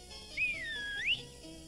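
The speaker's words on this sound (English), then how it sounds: "I whistled." A single person's whistle in a children's cartoon, one clear gliding note that dips and rises again over about a second, fairly faint with no talking.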